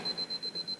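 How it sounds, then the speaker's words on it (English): A grenade in the Halo video game gives a quick series of high, evenly spaced electronic beeps, about six in under a second, faint against a low background hum. "Was that grenade? Why is that beeping?"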